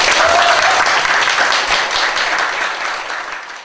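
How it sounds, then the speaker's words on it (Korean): Audience applause welcoming a Korean folk singer of Gyeongsang-do minyo onto a stage, a dense steady clapping that fills the whole stretch and fades slightly toward the end, with no voices over it. "일단 큰 박수로 모시도록 하겠습니다."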